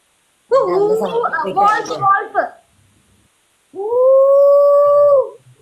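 A person imitates a fox howl: first a wavering, yelping run of cries, then a pause, then one long sustained howl, loud and close.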